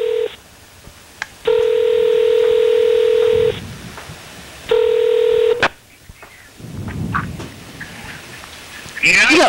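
Telephone keypad dialing tones ring out loud and close while a call goes to a cell phone, sounding as two long steady tone bursts separated by a short gap, then followed by softer clicks, handling noise and a faint rustling.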